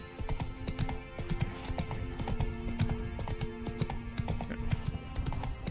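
Horse hooves clip-clopping in the Witcher 3 video game, a steady galloping rhythm of close, loud hoofbeats running throughout, with a faint whinny amid the game's background sound.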